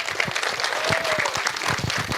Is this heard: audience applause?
yes